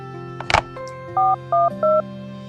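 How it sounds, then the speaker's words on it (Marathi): A telephone dialing effect in a Marathi audiobook starts with a sharp click and a short handling noise, followed by three evenly spaced, clean keypad tones over a faint steady hum. "तिने लगेच ऑफिस डायरी मधून मार्केटिंग डिपार्टमेंट मध्ये फोन केला"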